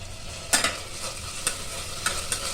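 Onions frying with ginger garlic paste for ghee rice, with a steady soft sizzle under several sharp spoon scrapes and stirs against the pan.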